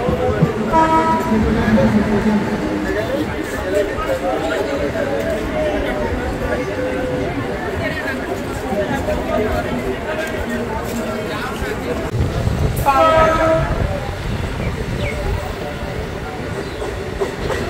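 A commuter train on the Sealdah–Ranaghat line rumbles into a halt station with loud, continuous wheel and carriage noise and a brief horn blast near the end.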